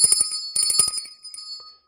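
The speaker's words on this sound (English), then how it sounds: "So that was the bell that I rang." A bell rung by a streamer during a Gundam model-building livestream, struck in a quick burst of bright rings, then a second burst that decays into a fading metallic tail, loud and alone.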